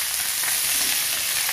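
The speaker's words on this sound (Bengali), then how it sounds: "পেঁয়াজ কলিগুলো কড়াইয়ে দিয়ে দিব।" Spring onion stalks hitting a hot wok, a dense, even, close hiss of frying held steadily with no other sounds.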